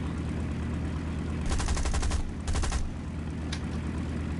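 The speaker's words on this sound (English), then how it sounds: "You can actually fire the back gun on the ground too." A plane's rear gun fires while the aircraft sits on the ground in War Thunder, giving two short bursts of rapid shots and then a single brief burst over a low engine drone, fairly quiet overall.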